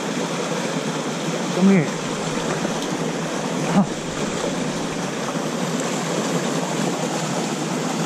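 A huge waterfall pours into a trout pool, making a constant broadband roar close by, with a voice briefly speaking over it.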